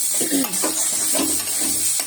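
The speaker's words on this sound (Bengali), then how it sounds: "করলাটা শুধু ভাজা হবে না, আলুর সাথে হবে, পেঁয়াজ দিয়েও ভাজছি।" Bitter gourd fries in a pan with potato and onion, a soft sizzle running under a few scraping, clinking stirs of a utensil against the pan.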